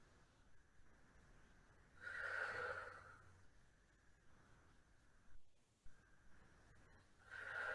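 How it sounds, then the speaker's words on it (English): Slow mindfulness breathing: two long, audible inhales through the nose, each lasting about a second or more, separated by quiet pauses and a soft exhale, close and gentle. "And then my mindfulness breathing looks like this."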